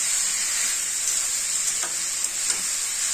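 Food frying in a pan in a home kitchen, a steady close sizzle with a few faint stirring clinks and no talk.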